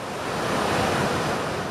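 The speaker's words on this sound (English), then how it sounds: "Waves crashing." Ocean waves crash and roll onto a North Carolina beach in a steady, loud, close wash of surf with wind, and no voices are heard.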